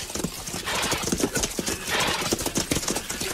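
Horses from a period film scene clip-clop steadily at close range, hooves striking in a busy, uneven rhythm while one whinnies, with faint background voices of a camp mixed in.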